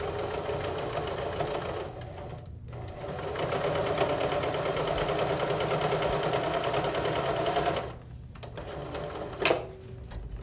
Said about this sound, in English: take it to my sewing machine and do about 1/4 inch